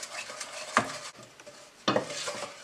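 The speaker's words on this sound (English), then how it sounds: "you're basically going to want to stir this till it's smooth and glossy looking" A spoon stirs melting sugar in a pan for pecan pie, giving soft scraping and faint sizzling with two sharper scrapes against the pan, close and alone.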